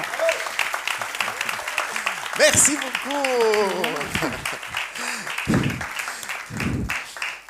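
Audience applause for a comedian taking the stage at a Mars et Vénus show in Abidjan, a steady wash of clapping running under a voice that speaks and tapers off by the end.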